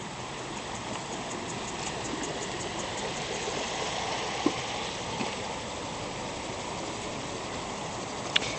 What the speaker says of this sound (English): Flows down this little stream.